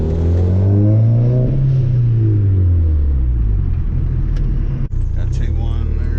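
Big-turbo VW GTI merging onto a freeway at night, its engine loud and close with a rising then falling rumbling pull and a brief gear-change dip, and someone speaking over it.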